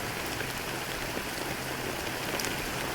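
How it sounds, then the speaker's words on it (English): Steady, dense rain hiss from the video game Honkai Star Rail, an even wash of fine drops with no pauses or voices. "How long has this rain been ongoing?"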